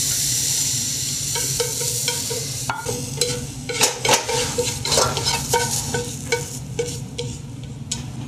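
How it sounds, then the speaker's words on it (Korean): Ingredients stir-fried in a pan for a Korean royal platter dish, with steady sizzling broken by repeated scraping and clinking of a utensil against the pan, close and fairly loud. "마지막으로 서기를 볶아 보겠습니다"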